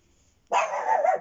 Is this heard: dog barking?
yes